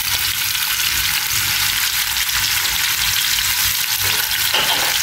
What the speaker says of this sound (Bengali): এই যে ইলিশ মাছ ভাজতেছি।